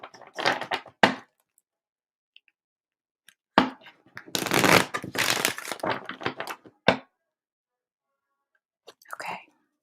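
Tarot cards being shuffled by hand indoors, close and crisp, in several separate bursts of riffling and sliding with quiet pauses between them, and no talking.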